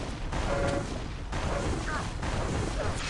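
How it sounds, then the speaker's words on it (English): Rocket launcher fire during a Quake Live duel match: repeated rocket blasts and explosions run under fast commentator talk. "Actually, very decent zoning rockets"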